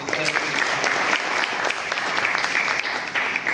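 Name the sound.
audience applause for the story writers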